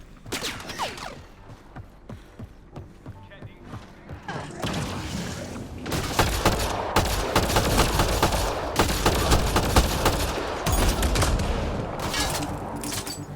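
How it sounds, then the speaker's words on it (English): Incendiary-round gunfire in the Mass Effect: Andromeda video game, dense rapid bursts and fusillades that grow louder and more continuous partway through, punctuated by crashes and thuds, close and loud. "Deploying incendiary rounds."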